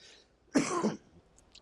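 A man clears his throat once with a short, rough, raspy burst close to the microphone, followed by quiet.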